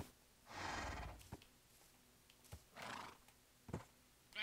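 Horses neigh in a Minecraft game at nightfall, two separate whinnies rising out of a quiet background, with a few soft hoof clops and small thuds scattered between them.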